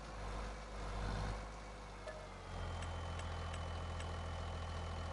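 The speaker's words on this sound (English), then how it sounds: "Love the sound of this truck." A truck engine idles in Farming Simulator 25, a steady low rumbling drone held quietly throughout, with a few faint ticks over the top.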